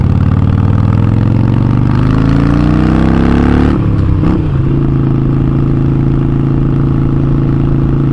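An older Honda Gold Wing touring motorcycle engine revs up loudly, drops back and settles into a steady idle, heard close with no talking.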